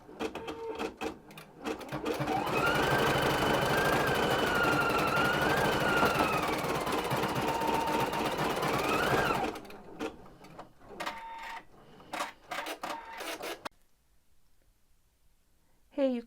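Embroidery machine stitching leaves at full speed, a loud sustained whirring hum with a shifting whine for about seven seconds, framed by intermittent clicks and quieter mechanical taps.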